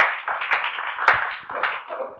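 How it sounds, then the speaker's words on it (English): At the close of a Geneva Engage conference, a handful of separate hand claps ring out at uneven intervals, fairly near, with quiet murmur between them. "Clap, clap, clap"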